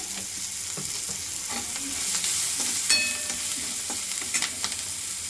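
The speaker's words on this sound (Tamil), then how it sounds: "இந்த அளவுக்கு நமக்கு வதங்கி வந்தால் போதும் ரொம்ப ஃப்ரை ஆக வேண்டாம்" Chutney ingredients sauté in a pan for Madurai-style coconut chutney, making a steady, close sizzle of frying with scattered scrapes and clinks of stirring and no talking.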